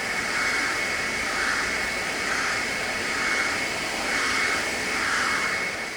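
A Makita DUB187Z cordless 18V leaf blower runs with a steady high-pitched whine and airy rush whose intensity swells and dips gently, close and continuous, with no talking.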